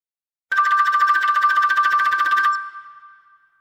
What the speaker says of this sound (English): We'll dial our US number from another phone and see how the call is routed to the administrator's web phone.